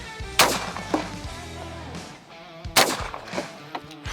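Two loud, close shotgun blasts from a Benelli Super Black Eagle 3 or Browning Maxus 2 firing target loads, the first near the start and the second about two seconds later, each with a sharp crack and a short echoing tail.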